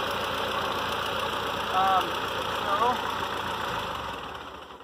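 Ford 8N tractor engine idling steadily up close with a newly fitted exhaust clamp and the pipe reseated to the manifold, a continuous rough, pulsing rumble with someone briefly talking over it.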